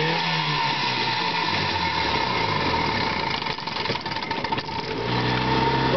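A 1974 Sea King 10hp outboard motor runs steadily on a small boat, a continuous buzzing drone close by that dips briefly before settling back to an even idle.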